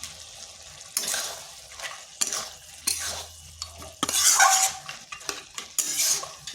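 Fried lentil dumplings (bori) stirred into a cucumber curry in a pan, a spoon scraping and clinking in short bursts over a faint sizzle, close and fairly loud, no talk.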